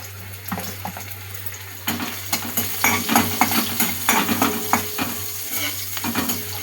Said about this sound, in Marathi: फोडणी मस्त अशी हलवायची.